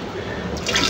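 Water pours into a tank to prime an irrigation pump, a short, close splashing and filling sound that grows brighter toward the end.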